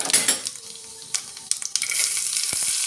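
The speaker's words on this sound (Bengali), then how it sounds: "এবার তড়কার জন্য ঘি গলিয়ে নিয়ে দেবো গোটা জিরে," Whole cumin seeds hitting melted ghee for a tadka, a bright crackling sizzle with a few metallic clinks of a utensil on the pan, close and fairly loud, no voices.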